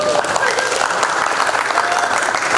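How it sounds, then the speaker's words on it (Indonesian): Sustained applause from an audience at a regional language ambassador pageant final in Bangka Belitung, a steady wash of clapping throughout with voices mixed in. "Beri tepuk tangan yang meriah."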